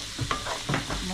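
Chicken noodles cooking with spices in a pan give off a steady sizzle, broken by a few bursts of stirring scrapes, close and fairly quiet with no voices.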